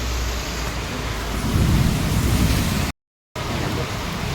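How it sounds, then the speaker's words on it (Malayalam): Steady rain falls outdoors in the evening, a dense, continuous wash of noise with a deeper rumble, broken by one short gap of silence. "മഴ"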